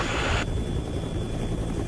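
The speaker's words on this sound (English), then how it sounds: "the chopper is ill-suited to the task. Its rotors churn the air and confuse the detection instruments" Helicopter rotors churn the air near the erupting Mt. Pinatubo, a loud, dense, continuous roar with a sharp change in tone early on, then a steady rumble to the end, with no speech.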